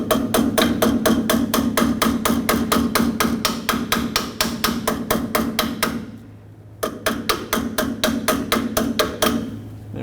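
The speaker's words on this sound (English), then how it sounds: "you wanna take your hammer and just squish the two ends over" Rapid, regular metallic hammer blows ring out close by, peening over an inner tie rod washer on a 1995-2004 Toyota Tacoma, a steady rhythmic pounding with one short pause before the strikes resume.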